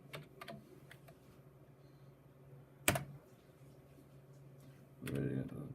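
Fingers tapping on an IBM Aptiva computer keyboard, quiet scattered keystrokes with a sharper single clack partway through and a short flurry near the end, against a low background hum.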